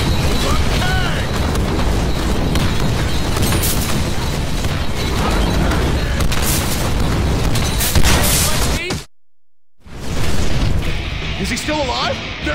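Grenade explosions in the Deadpool video game, loud continuous booming blasts and rumbling gunfire in dense battle noise, broken by a sudden second of silence before the chaos resumes, with voices shouting over it.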